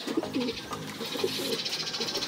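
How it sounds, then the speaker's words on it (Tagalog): Soft, repeated pigeon coos from passing racing pigeons bubble up in a low, rounded rhythm amid faint outdoor background noise, with no talking. "Mga kalapati pang dumadaan dito, ang dami oh."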